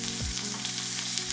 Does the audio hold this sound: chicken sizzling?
yes